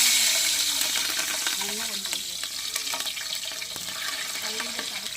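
Cardamom and green chillies fry in oil for biryani, a steady close sizzle with stirring clatter, and a voice talks faintly underneath.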